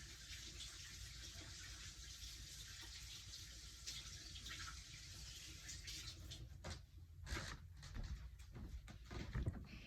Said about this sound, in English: I'm going to take it to my sink and I'm going to wash it with soap and water